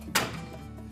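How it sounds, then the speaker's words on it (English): A Whirlpool dryer door is swung shut after a new door gasket is fitted, giving one soft, muffled thunk close by, followed by a quiet room. "Then we'll close that door up."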